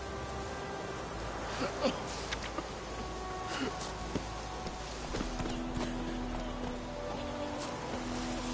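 Roach, the horse in The Witcher 3: Wild Hunt, clip-clops along in a steady hoof rhythm under a constant ambient game bed of low hum and faint insect-like buzzing, moderately close with occasional louder hoof hits.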